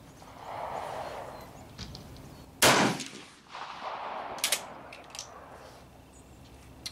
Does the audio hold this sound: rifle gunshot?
yes